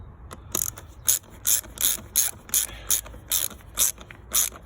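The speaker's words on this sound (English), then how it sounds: "So I'm just gonna tighten back this 7mm." Ratchet tightening a 7mm bolt on the air intake of an Abarth 500 1.4 T-Jet, a close, quick run of about ten evenly spaced clicking bursts with no talking.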